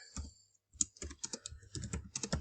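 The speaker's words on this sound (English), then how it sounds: "you start typing a little bit" Quick bursts of typing on a computer keyboard, close and quiet, with a short pause early on and then a steady run of clicking keystrokes, no voices.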